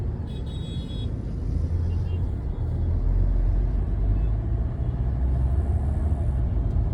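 Road traffic jam of auto-rickshaws and a JCB backhoe loader, heard as a steady, loud, close engine rumble and road noise that continues without a break and without talk.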